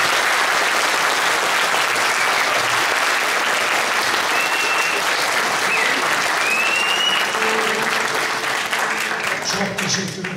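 Loud, sustained applause from an audience at a Turkish folk minstrel festival, steady clapping filling the room for several seconds before tapering slightly at the end.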